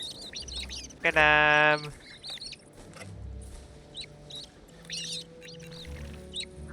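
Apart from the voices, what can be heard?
Gallimimus calls in Prehistoric Kingdom video game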